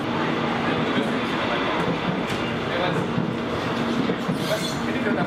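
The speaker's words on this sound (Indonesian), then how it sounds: "Sekarang lagi naik kereta bandara" Steady broadband rumble inside an airport rail link carriage heading toward Bundaran HI in Jakarta, continuous and fairly loud throughout with no distinct events.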